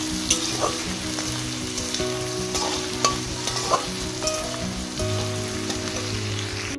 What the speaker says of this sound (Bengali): এদিকে গাজর আর ক্যাপসিকামের মধ্যে ভাতগুলো দিয়ে দিয়েছি, এবার ভেজে নিচ্ছি